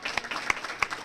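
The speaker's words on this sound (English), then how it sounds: "kids, I want you to give an applause to your teachers and your families" Kids at a school student-of-the-quarter assembly clap for their teachers and families, a short burst of scattered applause with a few distinct louder claps close by.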